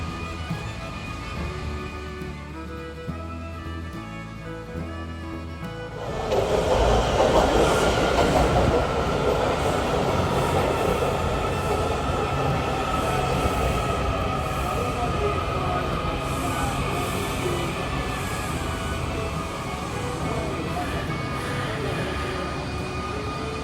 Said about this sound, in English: This is a yellow line train to Hutchinson, Westmore.